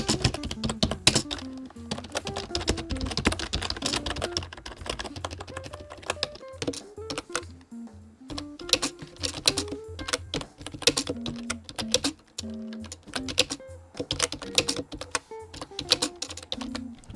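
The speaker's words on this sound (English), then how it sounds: "This is a membrane keyboard, and I'll explain what that means later in this video." Fast, steady typing on a membrane computer keyboard, a dense run of soft close key taps with brief pauses, heard alone without any talking.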